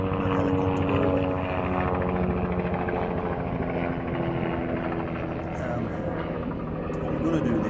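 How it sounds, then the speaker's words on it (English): A helicopter passes overhead by a winter koi pond, its steady droning rotor and engine hum continuing throughout as someone talks over it. "a helicopter over"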